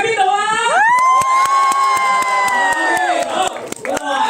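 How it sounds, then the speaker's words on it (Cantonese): A crowd at a Hong Kong film roadshow lets out a loud, sustained cheer with a rising whoop, backed by a rapid patter of clapping that continues to the end. "咁你哋嘅掌聲喺邊度啊？"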